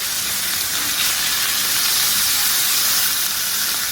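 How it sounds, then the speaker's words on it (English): Pork fat searing in a hot pan for Sunday gravy gives a steady, loud hiss that stays even and unbroken for the whole stretch, with no talking. "I'm going to sear that fat with all that goodness into this pan"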